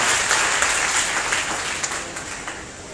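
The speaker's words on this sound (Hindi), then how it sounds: "जोरदार तालियां जरूर बजाएं।" Children applauding at a teacher's day celebration, a dense, steady burst of clapping from a crowd that carries on through the whole stretch at a fairly loud level.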